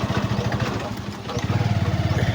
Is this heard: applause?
no